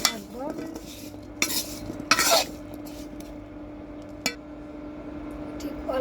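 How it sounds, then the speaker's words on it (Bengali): Potatoes frying in a pan, stirred with a spatula that scrapes and knocks against the metal in a few irregular strokes over a low, steady sizzle. "আলুগুলো লাল লাল করে ভেজে নিব। তো আলুগুলো আমি ভালো করে নাড়তে থাকবো।"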